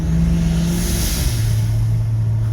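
An old black truck with new fuel injection and an 800 CFM throttle body revs hard, a loud close engine roar that climbs and then drops to a deeper rumble, with no voices.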